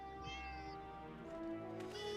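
Cat in a video game meowing a few times over a steady musical backdrop, the calls fairly clear and close, with no one talking.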